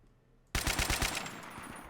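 Bursts of M60 machine gun fire in the Men of War: Assault Squad 2 war game: a rapid volley of loud, close shots that starts abruptly after a short quiet lead-in and then trails off into reverberating echo.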